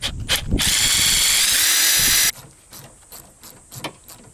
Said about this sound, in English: So I have 1, 2, 3, 4, 5 rivets I have to drill out